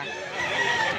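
A bullstag gamefowl, a young rooster, calls at a busy gamefowl market in Mantalungon, Cebu. The brief, raspy, crowing call is close and fairly loud over dense background noise.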